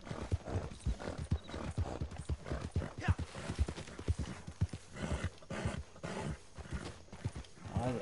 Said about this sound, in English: I hate this horse getting tired all the time.